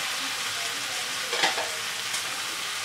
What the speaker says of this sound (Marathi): ह्यात आता आपण आपले फ्राय केलेले प्रॉन्सचे पीसेस घालून घेणार आहोत